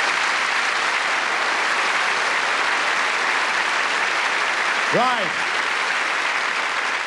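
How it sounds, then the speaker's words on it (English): Steady theatre audience applause filling the London Palladium, loud and sustained throughout, with a brief spoken word cutting through near the end. "Give her a round of applause."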